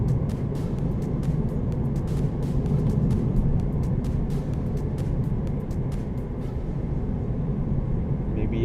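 A 2015 Mitsubishi Lancer GT cruises gently on a wet road, a steady close engine and tire rumble with a rapid ticking patter over it that thins out near the end.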